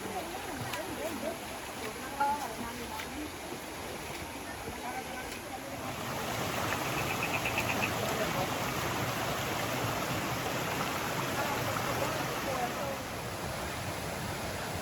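A local waterfall in a Sri Lankan rainforest where people are swimming gives a steady broadband rush of falling water that swells louder midway and stays dense and constant.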